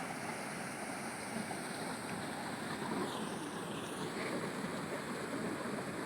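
Floodwater of the Kalubhar river surging past a broken dam, a steady, dense roar of rushing water with wind buffeting the microphone, continuous and unbroken, no voices.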